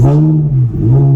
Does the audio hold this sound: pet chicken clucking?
no